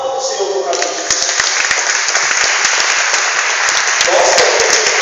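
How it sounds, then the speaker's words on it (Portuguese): A church congregation applauds during a sermon: dense, loud, sustained clapping from many people, building after the first second and continuing steadily, with some voices mixed in near the end. "Aplauda o Senhor por causa disso."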